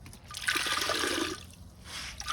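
A 2015 Kohler Highcrest toilet flushing, close and loud with a rushing swirl of water that fades into a softer trickle and refill.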